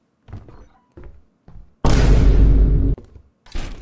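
A door swinging open in the video game Lethal Company, a loud sustained mechanical grinding rush lasting about a second, framed by softer thuds and footsteps before and after.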